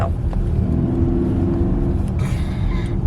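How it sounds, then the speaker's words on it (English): A moving car carries a loud, steady engine and road rumble heard from inside the cabin, with a low drone throughout and no talk. "the car is moving"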